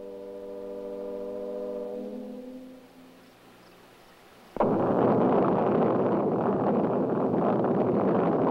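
First atomic bomb test explosion in the desert: after a low tone fades to a quiet lull, a sudden loud blast erupts into a sustained, heavy roaring rumble that fills the rest of the clip.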